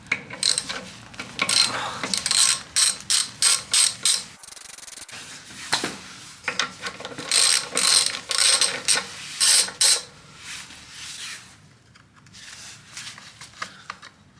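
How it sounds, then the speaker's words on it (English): A ratchet works a bolt loose on a TOMOS A3 moped, with bursts of quick clicking strokes repeating close by, pausing midway and then resuming before tapering off. "Firstly we'll take this bolt out here."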